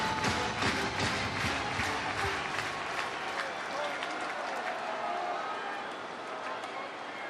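Steady applause from a baseball stadium crowd at a Yankees vs Cardinals game, a dense wash of clapping that runs throughout and eases slightly toward the end, with crowd noise mixed in.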